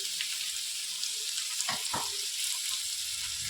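Sliced onions and small shallots with salt sautéing in a pan, a steady bright sizzle close by with a couple of soft stirring scrapes and no voices.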